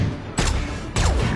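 Gunfire in a movie scene comes as two loud bursts a little over half a second apart, each sharp crack trailing off into a rumbling background, with no voices.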